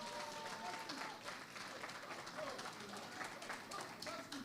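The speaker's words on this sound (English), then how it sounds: "Ladies and gentlemen, another round of applause." An audience clapping, dense, steady applause throughout at a modest, slightly distant level, with some voices mixed in.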